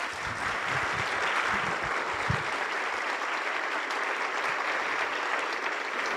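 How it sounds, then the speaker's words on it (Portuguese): Audience applause at a lecture event, a dense, even roar of many hands clapping that holds steady from start to finish with no talk over it. "Uma salva de palmas, senhoras e senhores."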